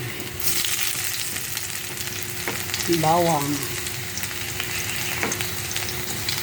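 Garlic and ginger frying in oil in a pan for a Filipino adobo, a steady close crackling sizzle that runs throughout, with a short clatter of stirring partway through.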